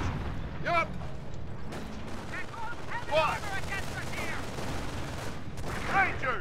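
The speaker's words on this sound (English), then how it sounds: "Heavy enemy fire on our position." Distant machine-gun fire and artillery rumble through a Company of Heroes battle, a steady low roar of combat with whistling and clattering shots, while soldiers shout orders over the noise.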